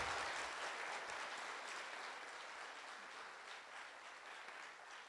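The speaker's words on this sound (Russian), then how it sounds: "поблагодарили наших экспертов бурными, продолжительными аплодисментами" Loud, sustained applause from a forum audience thanking the expert panel, a dense wash of many clapping hands that fades slightly toward the end with no voices over it.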